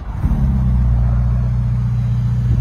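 A brand-new Ferrari started with a swipe, its engine catching and settling into a loud, steady low idle that stays close and continuous throughout.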